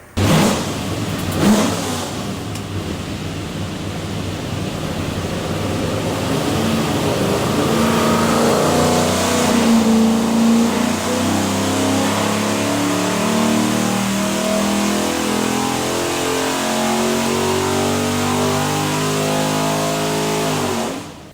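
A Weber-carbureted 347ci Ford V8 on a dyno fires up, then revs in a long sustained pull, loud and close, its tone climbing and holding near full throttle before easing off, with no talk over it.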